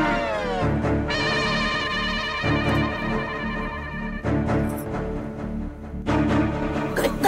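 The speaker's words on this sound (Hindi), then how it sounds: "घंटी बज रही है।" A telephone bell rings loudly in repeated bursts separated by short pauses, its bright, clear tone filling a domestic scene in a Hindi sitcom.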